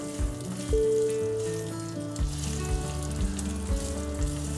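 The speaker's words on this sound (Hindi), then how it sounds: "अगर आपको क्रिस्पी चाहिए तो इसको थोड़ी देर फ्राई होने दीजिए" Alu vadi pieces fry steadily in hot oil with sesame seeds, curry leaves and mustard seeds. The close sizzle carries soft popping and a few light stirring clinks.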